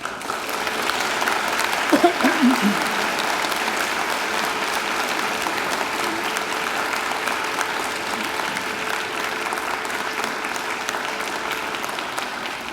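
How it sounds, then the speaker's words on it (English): Graduates at a university graduation ceremony give their families and friends a long, sustained round of applause that fills a large hall evenly, with a brief voice rising over the clapping near the start. "now I invite you to give them a mighty round of applause"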